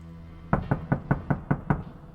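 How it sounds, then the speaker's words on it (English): Seven evenly spaced knocks on a door, close and crisp, with no other sound around them. "there's a knock on the door."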